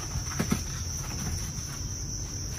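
Crickets raised on a cricket farm for meat and eggs chirr in a steady, high-pitched drone, with a few soft taps near the start.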